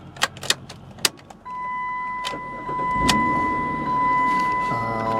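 A silver 2004 Chrysler Sebring Limited convertible starting: a few key and switch clicks, then the engine cranks and catches into a steady idle with a faint warning chime tone, heard from close by with no talking.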